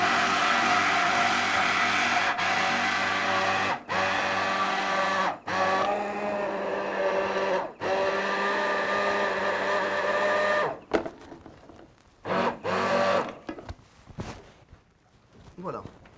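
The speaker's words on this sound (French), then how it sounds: "N'hésitez pas à vraiment bien bien mixer votre sucre" An electric mixer blends sugar with a steady loud motor whir for about eleven seconds, pausing briefly a few times, before stopping into short bursts and clatter.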